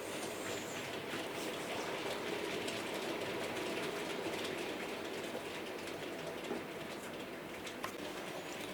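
A model railway Warship locomotive, Royal Oak, rumbles steadily along the track, a continuous low whir and clatter with no pauses, while birds coo faintly in the background.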